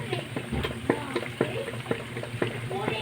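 Cabbage omelette sizzling in a frying pan as it is flipped, a soft continuous fry with a series of light taps and thumps from the turner against the pan.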